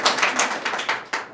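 Scattered hand claps from an audience welcoming an honoured guest at a Nepali DXN leaders' gathering, a few close, uneven claps with bursts and dips rather than a full roar, lasting a moment.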